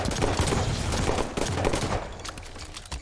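Video game gunfight with rapid bursts of gunfire, dense and loud at first, then thinning to scattered shots over about three seconds.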